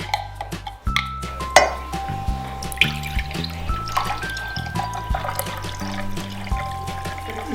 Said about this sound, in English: we are going to fill it with about 2 cups of buttermilk